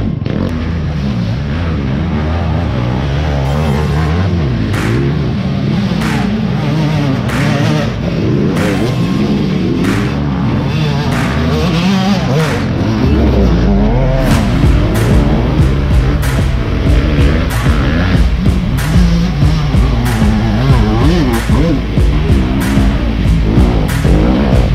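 Dirt bike engines roar and rev loudly and continuously at a hare scramble hill climb, with throttle bursts rising and falling and sharp crackling pops, growing heavier about halfway through.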